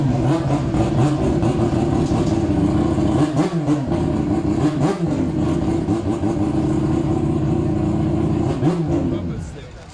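Race car engine at the Goodwood motorsport event, loud and close, holding a steady rough roar with repeated rising revs and blips before easing off at the end.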